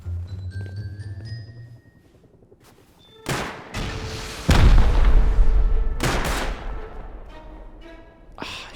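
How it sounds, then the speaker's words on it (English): Gunfire in the Rust survival game as a player shoots out a base turret: dense bursts of rapid shots and booming impacts, loud and close, rising and fading in waves. "he's shooting out the turret for sure"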